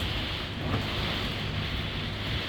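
Strong wind gusts around a shipping container shop in a steady, loud roar that buffets the microphone, with a wash like surf behind it and no pause.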